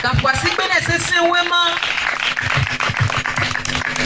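A congregation at an evangelistic crusade in Gbavé bursts into loud, sustained clapping and cheering for the Lord, following a voice that rings out over the crowd at the start.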